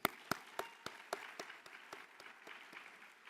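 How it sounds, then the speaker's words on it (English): Applause at a PTA general meeting for national governance members, starting with a few sharp, distinct claps that blend into a thinner, moderate patter fading slightly over a few seconds. "Let's have a round of applause for the national governance members."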